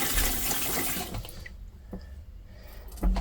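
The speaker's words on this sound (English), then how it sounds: "fill it up with water by just tapping on the foot level." Water rushes through an RV toilet as it flushes and refills, a loud steady gush for about a second and a half that drops to quieter trickling, then swells again near the end.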